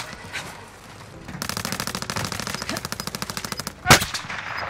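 Rapid automatic gunfire in the Call of Duty Warzone video game with the FARA 83 rifle: a steady burst of close, loud shots lasting a few seconds, followed by a single sharp blast.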